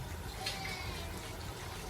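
Water runs steadily into and around a blender jar during rinsing in a home kitchen while gizzard and vegetables are prepared; a soft, continuous trickle and splash sounds close by, with no talking.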